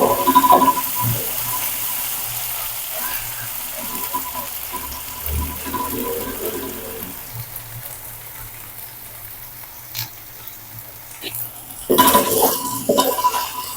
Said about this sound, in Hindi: अब इसमें डाल देंगे अदरक और लहसुन का पेस्ट। इसको इसमें करेंगे थोड़ा सा फ्राई।